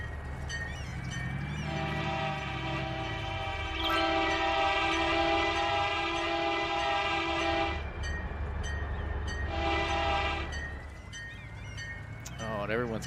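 In the Cities: Skylines city-building game, a train arrives at a station with custom sounds: a loud, sustained multi-tone horn sounds twice over a continuous rumble of rolling wheels and rail noise.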